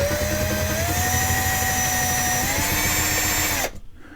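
A power drill whines steadily at close range, drilling out a rivet on a model Chevy truck base, its pitch rising slightly as it bites in, then cuts off abruptly near the end.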